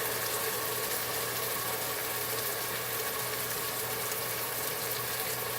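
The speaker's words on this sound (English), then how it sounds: "When you hear that sizzle, that's what a chunky is." Curry paste sizzles in a pan on high heat, a dense, steady hiss that stays even throughout, with no voices.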